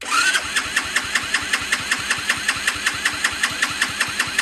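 A CT70 clone minibike engine is turned over with the key, the starter churning in a steady, rapid rhythm of even pulses, loud and close, without a break.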